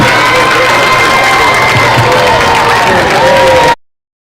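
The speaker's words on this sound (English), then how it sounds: "please give another round of applause for the 2024 Licking Valley Panther Marching Band" A crowd at a high school football game cheers and applauds for the 2024 Licking Valley Panther Marching Band, a loud, steady roar of shouts and clapping that cuts off abruptly near the end.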